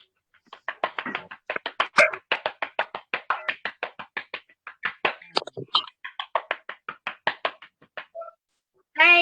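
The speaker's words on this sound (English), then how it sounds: "let's release our mics as we give her a round of applause" A burst of rhythmic group clapping at a workshop closing program, sharp and steady in short synchronized bursts, with a brief pause before a final clap.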